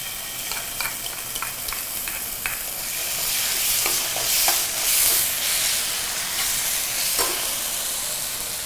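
Tomato sauce is stirred into sizzling dragon chicken in a hot pan, with a steady bright frying hiss and repeated scraping strokes of a spatula close up.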